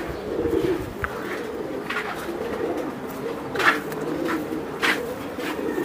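Soft, low cooing from a female racer pigeon runs through a steady murmur of background noise, broken by a few faint clicks and brief brighter bursts.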